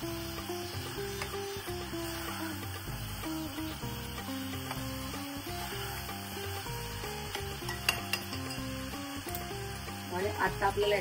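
Turmeric being sautéed and stirred in a pan, with a continuous soft sizzle and scraping of the spoon against the pan, growing brighter near the end.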